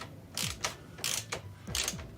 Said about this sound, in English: I'm going to use your ratchet, 13 millimeter socket.